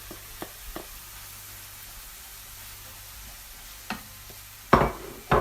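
Salt fish going into a pot of dahl on low to medium heat, with soft stirring scrapes and a faint sizzle under steady noise, then a few louder clatters near the end.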